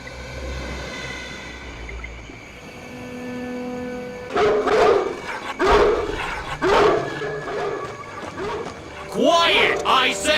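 Dog barking in the stealth video game Splinter Cell Pandora Tomorrow, several loud, sharp barks in a row over a steady humming ambient backdrop.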